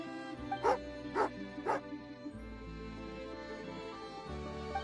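An angry dog in the video game Genshin Impact barks three times in quick succession, loud and close, followed by a low whimpering growl over soft background music.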